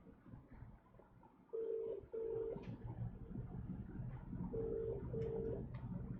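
An unanswered phone call rings out as a ringback tone in two spaced double-pulse rings, moderately loud over a steady murmur of background noise.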